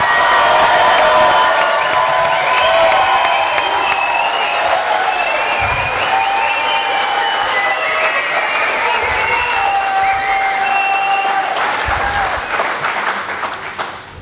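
An audience at a 2012 congressional debate breaks into loud sustained applause and cheering, with whoops and shouts, the clapping holding strong for most of the stretch before tapering off at the end.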